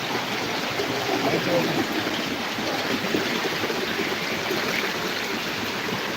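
Clear water rushing over big submerged rocks in a flowing stream, a steady broadband roar that stays even throughout, close and fairly loud, with no talking.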